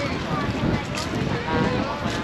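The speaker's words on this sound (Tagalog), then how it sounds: "Malakas nga ang hangin." Strong wind blowing along Manila Bay, roaring and buffeting against the microphone in continuous gusts, with people's voices faintly mixed in among a crowd.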